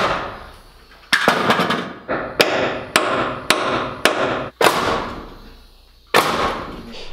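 A nail gun drives nails into a wooden stair stringer: a rapid burst of sharp, loud cracks, then about half a dozen more separate shots at irregular intervals, each followed by a short decaying ring.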